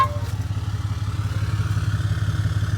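RFX winch pulling a vehicle up onto a trailer, a steady low mechanical drone with a rapid rhythmic chatter, close and continuous with no talk.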